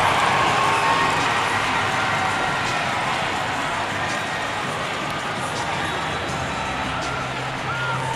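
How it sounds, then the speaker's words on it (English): A hockey arena crowd roars for a fight in a minor league game between the Columbus River Dragons and Binghamton Black Bears, a loud continuous wash of cheering that holds steady throughout, with a commentator's voice faintly underneath. "the crowd loves it"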